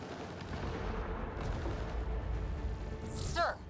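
Gunfire in the sci-fi shooter Mass Effect: Andromeda, a dense low rumble of shots and blasts running steadily throughout, with a sharp zapping burst near the end.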